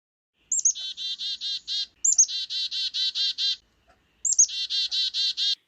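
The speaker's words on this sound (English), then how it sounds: "You ever heard that classic chickadee dee dee dee dee?" A black-capped chickadee gives three bursts of its chick-a-dee call, each a high sharp note followed by a rapid run of buzzy dee notes. The calls are clear and close against a silent background.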